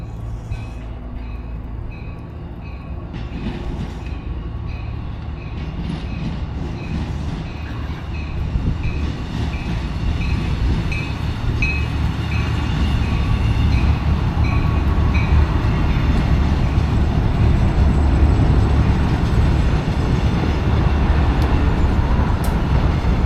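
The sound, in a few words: Reading & Northern RDC rail diesel cars passing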